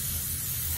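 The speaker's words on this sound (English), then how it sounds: "you want to spray it down just so nothing kind of sticks to the pan" Cooking spray hisses steadily onto a casserole dish, a close, continuous aerosol burst lasting under a second with no voices.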